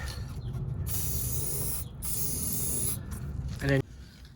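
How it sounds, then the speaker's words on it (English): Long steady hissing bursts from an aerosol lubricant spray can onto car coilover and shock mount parts, several presses with short pauses between them, close up, with a brief voice near the end. "give that a good spray up"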